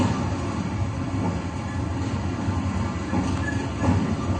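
A train rumbles steadily past in a film scene, a continuous dense rolling and clattering of wheels on rails at moderate distance with no speech.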